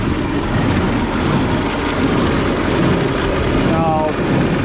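A classic Oliver tractor pulls a hay baler as it spins up during second-cut haying, making a loud, steady mechanical roar that fills the whole stretch, with a brief whistling tone near the end.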